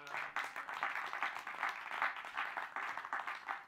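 A church congregation applauding after a scripture reading, rhythmic clapping in unison pulsing steadily, fairly faint and roomy with no talk over it.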